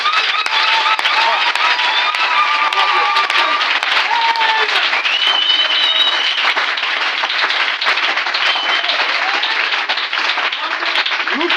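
A church congregation bursts into sustained, dense applause, many hands clapping steadily for several seconds, with scattered voices and cries rising through the crowd noise.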